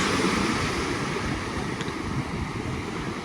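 Sea waves wash ashore at a forest campsite beach in İncekum, Alanya, a constant broad rush mixed with wind buffeting the microphone, no voices.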